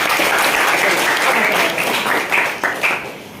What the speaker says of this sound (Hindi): बहुत बढ़िया, तालियां।